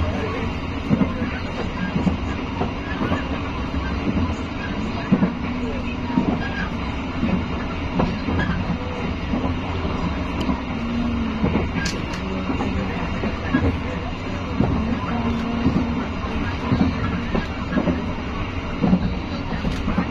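The Kutojaya Selatan passenger train from Kutoarjo to Kiaracondong runs along the rails, heard from inside with a continuous rumble and rhythmic clickety-clack of the wheels, with occasional squeals and faint voices.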